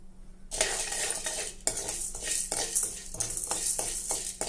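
Masala, dal and curry leaves roast in a hot kadai on low flame, with repeated close scraping and stirring strokes of a metal spatula against the pan over a soft sizzle.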